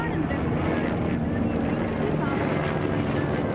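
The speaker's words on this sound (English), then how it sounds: "I'm sorry, I couldn't quite hear with the plane." An airplane roars overhead as a steady, loud broadband rumble that fills the whole stretch, with a speaker's voice at a press conference partly audible beneath it.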